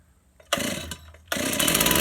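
A Stihl 038 Magnum chainsaw, fitted with a new carburetor, fires up in two loud bursts of running, briefly dropping off between them rather than settling to idle.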